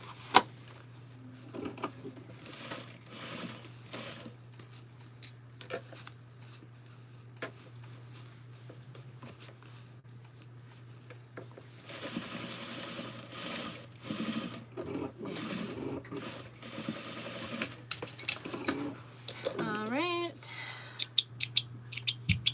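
A sewing machine stitching the second half of a pair of pants to the yoke, with a low steady motor hum and bursts of quick needle rattling that get busier toward the end, heard fairly quietly.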